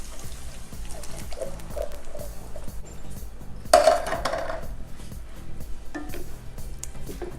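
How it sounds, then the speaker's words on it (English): Pinto beans with their cooking liquid being stirred into onions in a pan, giving faint, intermittent scraping and clinking of a utensil against the pan with one sharper knock partway through. "Get those mixed around with your onions."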